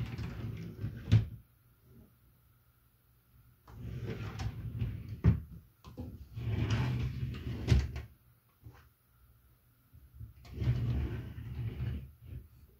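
Bedroom drawers are slid open and shut several times in succession, with sharp knocks and scraping of wood between quieter pauses, close by and without speech.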